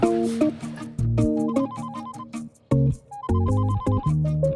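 An electronic phone ringtone plays a short repeating melody, loud and close, with a brief gap before it starts again.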